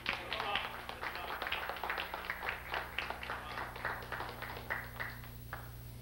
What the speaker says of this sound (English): Let's greet this brother with a hearty hand clap and a hearty Islam.